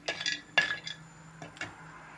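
Almonds being dry-roasted and stirred in a pan, heard as a few light clinks and rattling scrapes of utensil and nuts against metal, with quiet gaps between strokes and no speech.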